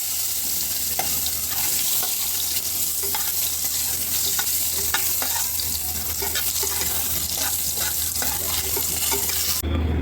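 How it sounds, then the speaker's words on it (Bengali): Eggplant pieces coated in salt and turmeric fry in hot oil, making a loud, constant crackling sizzle close up, with occasional stirring scrapes and no voices. "এবার আমি বেগুনটাকে নুন হলুদ মাখিয়ে ভেজে নেব।"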